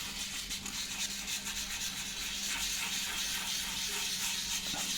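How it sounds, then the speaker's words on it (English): Steady rough scratching of 150 grit sandpaper rubbed back and forth over a doped balsa model surface, continuous and close, with no voices. "use 150 grit sandpaper to sand the surface"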